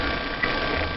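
A ratchet working on the alternator bolts of a Nissan D21 pickup with a 2.4L engine, a steady clicking mechanical whir lasting about a second, close and muffled, with no talk.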